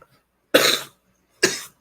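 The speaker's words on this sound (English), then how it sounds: "And I'm choking again, just like I haven't coughed all day." Two separate harsh coughs from one person, close and loud, spaced about a second apart with quiet between them.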